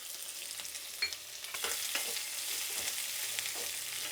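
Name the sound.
onion, green chilli and curry leaves frying in pan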